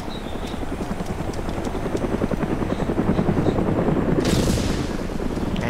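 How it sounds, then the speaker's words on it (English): Enemy helicopter in the video game Arma 2, a loud continuous rotor chop pulsing rapidly and steadily, with a brief burst of higher noise near the end and no talk. "Enemy helicopter."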